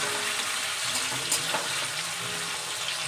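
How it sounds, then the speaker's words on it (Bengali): Potatoes fry in a pan of hot oil, a continuous close sizzle with faint crackles and an occasional stirring scrape. "আলুগুলো খুব লাল করে ভাজা হবে"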